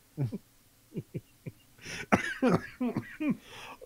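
A close-up coughing fit: several short, sharp coughs at first, then a denser burst of harsh hacking coughs in quick succession.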